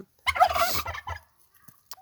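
A loud, close turkey gobble, a single rattling burst followed by a few faint distant calls.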